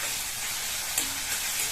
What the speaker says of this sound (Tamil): கூடவே கொஞ்சம் கருவேப்பிலையும் சேர்த்துட்டு இந்த வெங்காயத்தை நல்லா வதக்கிக்கணும்